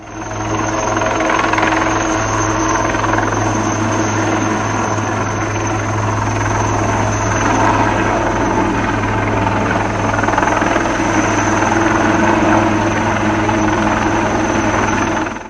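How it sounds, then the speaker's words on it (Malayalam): A helicopter flies low over houses in Kollam. Its loud, continuous rotor thrum and engine drone hold steady and close for the whole stretch, with no voices. "ഉദ്യോഗസ്ഥന്റെ വീടിന് മുകളിൽ ഏറെ നേരം ഹെലികോപ്റ്റർ താഴ്ന്നു പറന്നതായും"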